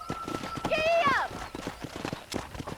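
Horse hooves clip-clopping at a gallop in the video game Red Dead Redemption, with a whinny partway through and speech over the rhythmic hoofbeats.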